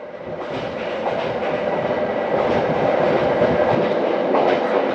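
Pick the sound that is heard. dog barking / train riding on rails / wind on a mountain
train riding on rails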